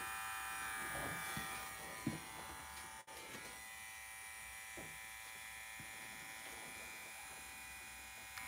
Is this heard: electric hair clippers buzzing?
yes